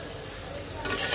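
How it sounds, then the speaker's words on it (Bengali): Spices and vegetables, with turmeric and coriander powder, are stirred and fried in a pan for a Bengali fish dish, giving a close, steady sizzle with a louder scrape of stirring near the end. "এইবার মশলাটাকে মিক্স করে দেব আর খুব সুন্দর করে মশলা আর সবজিটাকে একটু ভাজা ভাজা করব"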